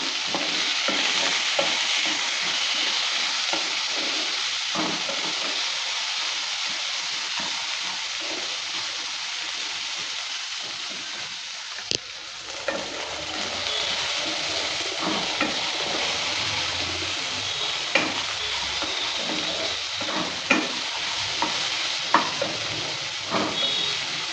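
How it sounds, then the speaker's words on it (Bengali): Jackfruit seeds with salt and turmeric stirred in a frying pan, a steady sizzle with occasional scraping clicks of the spatula, continuous and fairly close. "লবণ হলুদটা দেওয়ার পর ভালো করে আবারও নেড়ে চেড়ে নিচ্ছে"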